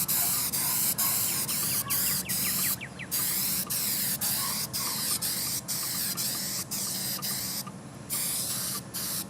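Upholstery spray adhesive hisses from a can in steady, loud bursts with short pauses between passes while covering fabric in a car interior.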